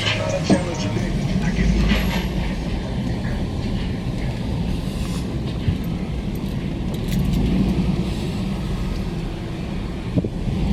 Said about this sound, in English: Now the bus is about to get off of Back Street and he's going to go all the way over to Walter Nisbet Road